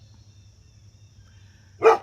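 A single short dog bark rings out near the end after near silence, with a low steady hum in the background and no one talking.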